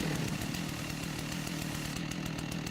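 Chainsaw in the video game Rust buzzes steadily and loudly, a dense rough motor drone with rapid rhythmic chopping texture throughout.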